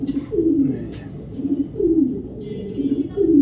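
Foreign-style racing pigeons coo in rhythmic low rolling phrases, about five calls repeating close and fairly loud, with brief faint chirps and light rustles between them.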